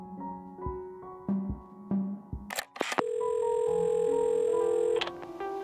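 A telephone handset is picked up and a number dialed in the Assemble With Care video game: several close clicks and handling clacks, then a sharp pickup rattle and a steady dial tone humming alone for a couple of seconds.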